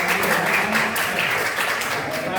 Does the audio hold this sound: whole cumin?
no